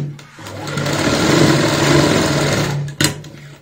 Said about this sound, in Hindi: यहाँ पे भी हम सिलाई लगाएंगे